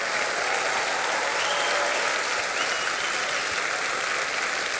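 Steady, dense audience applause at a telethon after a band is introduced, a loud continuous wash of many hands clapping without pause throughout.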